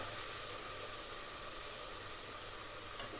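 Ground masala paste for tomato rice fries in a hot pan, a steady, faint, even sizzle and hiss that runs unbroken with no voices over it.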